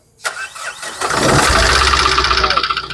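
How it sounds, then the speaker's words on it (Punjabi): A Tata Safari engine cranks and catches, then settles into a loud, steady diesel idle with a rhythmic knock; a voice is heard just before it starts. "ਬੇਟਾ ਗੱਡੀ ਸਟਾਰਟ ਕਰਿਓ"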